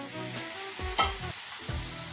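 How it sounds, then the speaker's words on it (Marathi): Jaggery sizzling in ghee in a hot kadhai, with a steady close frying hiss and a few soft scraping stirs and a clink. "नंतर याच्यामध्ये गूळ टाकून द्यायचा."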